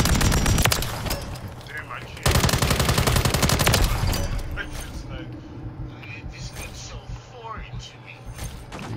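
Video game gunfire: rapid automatic bursts, loud and close, with a short pause and then a second sustained burst, fading into scattered shots and game effects while a voice speaks quietly over it.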